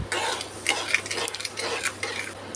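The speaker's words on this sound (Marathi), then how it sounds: "याच्यामध्ये मी एक वाटी साखर घालत आहे गोड तुम्ही तुमच्या आवडीने कमी जास्त करू शकता आणि याला व्यवस्थित याच्यामध्ये मिक्स करून घ्यायचं आहे" Sugar being stirred into beetroot halwa in a kadai: continuous scraping and clinking of a ladle against the metal pan with a soft, thick churning texture, close and steady, no voices.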